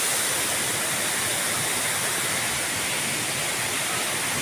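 Dahoyhoy Falls in Mauban pours in a constant, dense roar of rushing water, loud and close, steady and unbroken with no voices.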